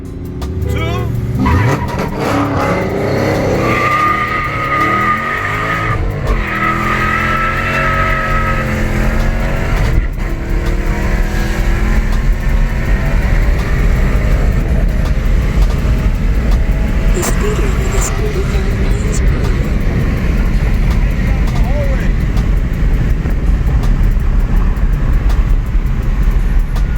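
Cars launch hard down a drag strip, engines roaring loudly through first and second gear with tyres spinning, a long continuous close engine howl and shifting pitch, with voices faintly underneath.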